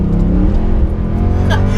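Mercedes C63 AMG with its 6.2-litre V8 revs loudly and steadily up close, a deep continuous engine roar with a brief rising blip near the end.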